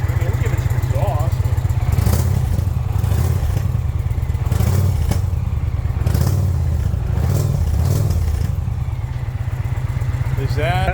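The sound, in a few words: Indian Pursuit motorcycle exhaust revving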